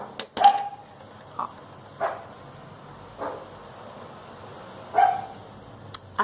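A female dog barks at things passing in the street: several short, sharp barks come at irregular intervals and sound moderately close, with quiet gaps between them.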